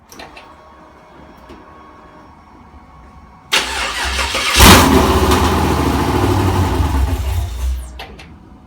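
A supercharged LS3 V8 in a 1985 Buick Regal G-body, running open headers, cranks and then fires with a sudden loud roar. It settles into a rough, rumbling idle for several seconds before cutting out.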